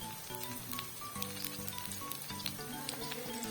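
Steady crackling sizzle of tempering spices frying in hot oil in an iron pan for kadhi, bubbling and popping close up without pause, no voices present.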